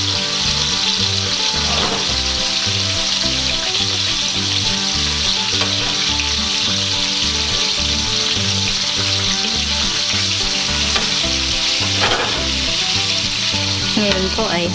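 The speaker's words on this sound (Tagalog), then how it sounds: "Ngayon ay lulutuin na natin itong ating beef." Beef searing in cooking oil over a high flame, a loud, dense, continuous sizzle with rhythmic crackle and occasional stirring, no voices.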